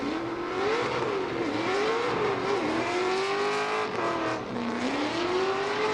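A Formula Drift car, a 1,300-horsepower LS-powered drift machine at Irwindale Speedway, revs hard and loud as it drifts, its engine note rising and dipping continuously with tire roar throughout.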